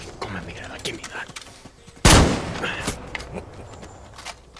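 A single loud gunshot rings out in a Far Cry 6 cutscene set in tobacco fields, a sharp close blast standing out against background voices and ambience.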